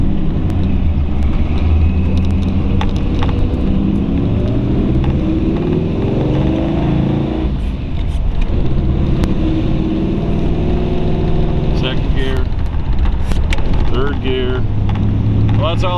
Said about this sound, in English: we'll take it down the side street here, shift it through a couple gears